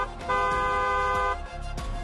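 A single car horn blast, a steady, bright toot held for about a second before cutting off, standing out against low background noise.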